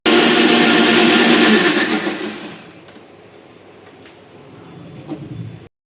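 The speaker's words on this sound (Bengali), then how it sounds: "এবার চলো ব্লেন্ডারে বসিয়ে দিলাম দিয়ে ব্লেন্ড করবো এটাকে সুইচটা দিয়ে দিচ্ছি" A kitchen blender whirs loudly as it blends yogurt into lassi, a dense roar for the first couple of seconds that then fades to a lower, quieter hum before cutting off.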